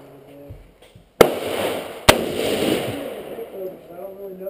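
Two loud, sharp AR-15 rifle shots ring out about a second apart at close range, each followed by a lingering echo, with faint voices in the background.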